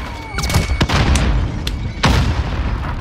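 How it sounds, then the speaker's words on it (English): A grenade goes off in Call of Duty Warzone (Cold War season 2): several sharp, loud booms and thuds close together over about three seconds, mixed with bursts of gunfire. "Grenade out."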